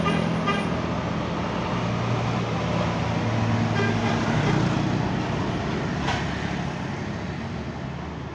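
Intercity buses pulling out of the Purabaya Bungurasih bus terminal exit in Surabaya sound a long horn blast over heavy, continuous engine and traffic noise, close and loud throughout with no talking.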